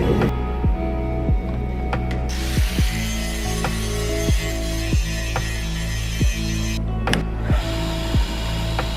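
Damascus steel billet for a nakiri knife ground flat on a grinder, a steady motor drone with regular ticking pulses roughly every second, close and continuous.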